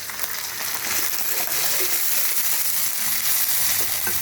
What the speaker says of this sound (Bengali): পেঁয়াজটা লাল লাল করে ভাজা হয়ে গেছে, এখন এর মধ্যে আমি আদা রসুন পেস্ট করা আছে দিয়ে দিলাম।